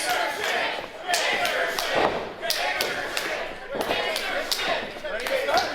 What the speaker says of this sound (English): And you hear the crowd chanting for gangster shit